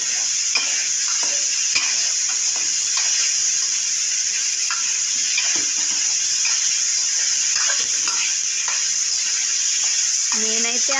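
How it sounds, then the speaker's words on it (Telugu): Sliced onions sizzle steadily in hot oil in a pan for aloo fry, with a spoon stirring and scraping in repeated clinks throughout, close and continuous. "ఈ ఉల్లగడ్డ వేసి బాగా కింద మాడిపోకుండా కలుపుతూ ఉండాలి"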